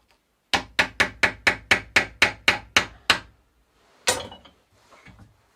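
A hammer drives a pressed-in bicycle bottom bracket out of the frame with eleven sharp, evenly paced metallic blows, then a pause, one more hit and a faint rattle, close and loud.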